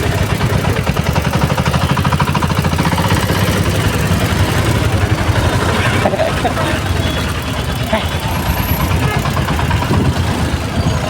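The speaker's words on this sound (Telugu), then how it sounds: "ఫుల్ ట్రాఫిక్ ఉందన్నమాట" Heavy road traffic builds up at a busy circle with a signal: a dense, steady rumble of idling and slowly moving engines, loud and close throughout, with a voice talking over it.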